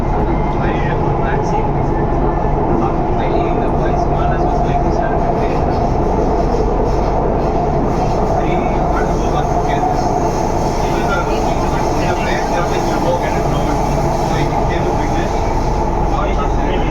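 A Chennai metro train runs along its line, heard from inside as a loud, unbroken rumble and rushing roar that holds steady throughout, with indistinct voices faintly underneath.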